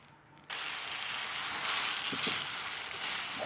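Apples drop into hot caramel and sizzle loudly. The steady frying hiss starts abruptly after a quiet moment and keeps going, with a few soft stirring knocks.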